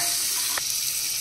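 Butter melting in a small hot pan of grilled paneer, with the gas switched off, gives a steady, close hiss of sizzling and a brief soft splash partway through, with no voices.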